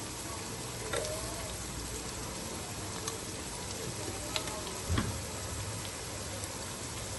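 Turmeric, crushed cumin, coriander and black pepper roasting in a hot pan for chana pulao, giving a steady, dense sizzle and crackle throughout, close and continuous.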